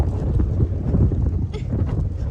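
Strong wind gusts buffet the microphone in a steady, roaring rush of low rumble and hiss, with no voices over it.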